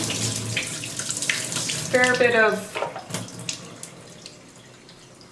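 Water gushes and splashes out of the drip tray water trap of a Breville Barista Express espresso machine during cleaning, a brief tap-like pour that tails off, with someone talking over it.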